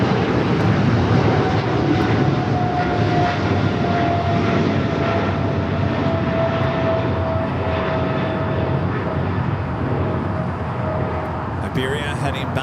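An Iberia Airbus A350 runs its jet engines at LAX airport, a loud, steady roar with a faint whine across the whole stretch. A voice talks over the noise.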